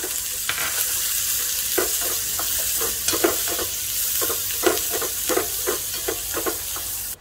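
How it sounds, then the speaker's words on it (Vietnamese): Dried shrimp stir-fried in a pan with fried shallots and garlic: a steady, loud sizzle with repeated scraping and clattering of a utensil stirring through it, no talking. "rồi mình để cái tôm khô vô nè mình xào sơ nha các bạn cho nó thơm nha các bạn"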